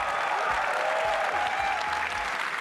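WWDC 2019 keynote audience breaking into clapping, yelling and whistling, a dense continuous roar of applause from a large crowd with a sustained whistle running through it.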